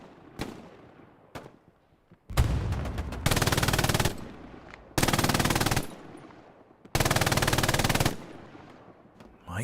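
MG42 machine gun firing in a video game, with a few single cracks followed by three long, loud, rapid-fire bursts of roughly a second each, separated by short pauses.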